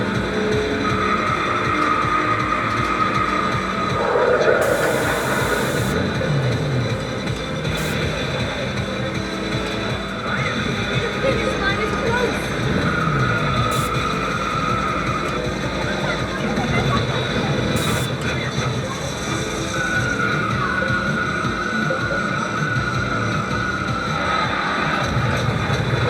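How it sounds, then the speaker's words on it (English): VR racing arcade machines in a large Arizona arcade drone with revving car engines and occasional tire squeals, a continuous loud mix of game audio and crowd noise with people talking. "that VR racing was cool"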